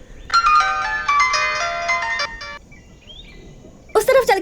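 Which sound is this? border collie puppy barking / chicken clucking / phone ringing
phone ringing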